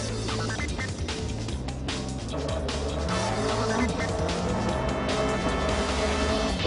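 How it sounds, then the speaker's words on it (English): Race cars roar and squeal their tires as they skid and touch in a beach race crash, a loud continuous mix of engines, skidding and passing cars. "Now, the two cars ahead of him touch, and he ends up kicking the back of the 43 car."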